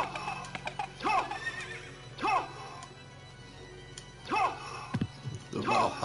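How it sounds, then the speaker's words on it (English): A horse in the Castlevania video game neighs in loud, repeated whinnies, four or five sharp calls spaced about a second apart over a low steady background hum. "Forgot about the horse guys."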